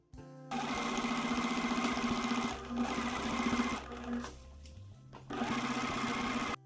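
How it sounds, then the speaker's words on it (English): Bias tape is sewn onto the edges of a reversible jacket with pockets as a sewing machine hums in close, loud continuous bursts, briefly slowing and pausing before resuming at full speed. "sew the bias tape right sides together at 1/4 inch"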